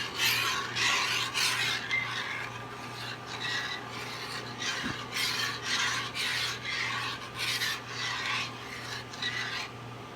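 Homemade BBQ sauce being mixed by hand, a steady rhythmic scraping and rasping of a utensil stirring through the sauce in a container, close and moderately loud, with no talking.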